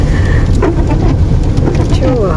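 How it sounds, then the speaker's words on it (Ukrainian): Steady rain pours down outdoors in a small Ukrainian town, a dense broadband wash that fills the whole moment, with faint murmurs of voices nearby. "Я ж казала, що туточки більший дощ,"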